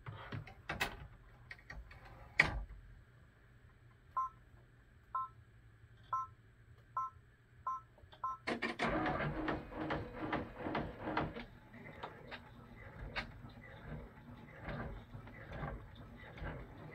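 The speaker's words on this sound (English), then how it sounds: "the next color change is going to be the placement stitch for the mouth on the center pumpkin" An embroidery machine sews the placement stitch for a felt pumpkin mouth on a napkin holder: a run of evenly spaced beeps, then a dense, rapid mechanical stitching patter that carries on close and steady.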